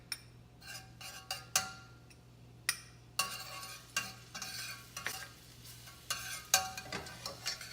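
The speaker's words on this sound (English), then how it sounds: "we're going to take our garlic and we're going to throw it in the pan" Garlic sizzling in a hot pan while a utensil pushes it around, giving repeated sharp scraping and clinking strokes over a low, steady frying hiss.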